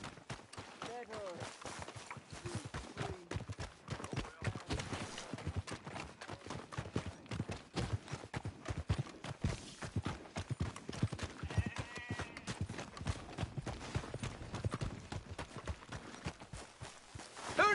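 Horse hooves clip-clopping in Red Dead Redemption 2, a steady rhythmic clatter of several hooves at a walking-to-trotting pace, fairly close, running continuously under characters talking.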